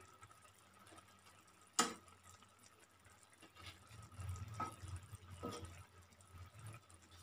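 A sharp clatter followed by soft wet splashes and bubbling as small crabs drop into a pot of simmering pepper masala gravy, fairly quiet overall.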